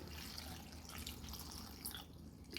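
Water poured into a cooking pot of drumstick and jackfruit seeds with turmeric and salt gives a steady close splashing trickle throughout, with no talk.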